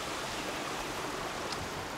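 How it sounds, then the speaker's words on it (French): A mountain torrent in the Pyrenees rushes in a steady, moderately quiet hiss of flowing water, continuous and even, with no talking. "les randonneurs traversent le torrent pour atteindre les premières neiges"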